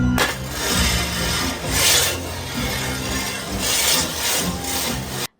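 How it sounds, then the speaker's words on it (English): Metal shovels dragged along the ground by costumed gravediggers at a Halloween party parade, throwing sparks: a loud, continuous scraping rasp that swells and fades in several long passes over about five seconds. "the Gravediggers are one of the best parts of the show because they drag their shovels and create"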